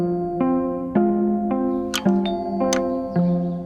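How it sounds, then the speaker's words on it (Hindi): A doorbell chimes repeatedly at a front door, a series of bright ding-dong tones with sustained harmonic rings, several strikes in quick succession ringing out clearly with no talking. "और उसी वक्त दरवाजे पर घंटी बजी।"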